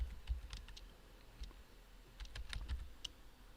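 Quiet typing on a computer keyboard, scattered light key clicks in small irregular bursts, close by and soft, with no talking.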